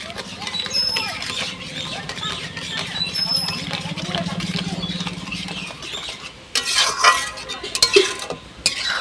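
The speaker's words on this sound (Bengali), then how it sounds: "ভালো করে নেড়ে চেড়ে আবার একটু জাল করে নেবো" Homemade fresh tomato sauce with sugar being stirred in a pan, a scraping, pattering stir with light clinks of a utensil against the pan, steady at first, then sharper and more irregular near the end.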